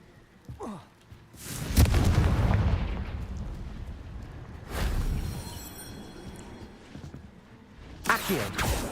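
In the game Hogwarts Legacy, a Confringo blasting spell sets off booming explosions, several heavy bursts spaced across the scene with rumbling decay between them, loud and close.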